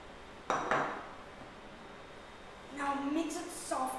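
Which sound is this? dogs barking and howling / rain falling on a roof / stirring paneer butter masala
stirring paneer butter masala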